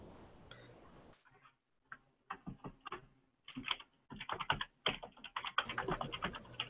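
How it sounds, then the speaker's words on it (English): Loud computer keyboard typing in quick irregular bursts of sharp clicks, close up, with a brief pause early on and no talking. "My keyboard's really loud."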